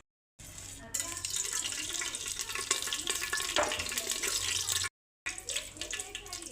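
Whole spices sizzle in hot oil in a pan, a bright continuous crackling hiss close up, briefly cut off near the start and again near the end.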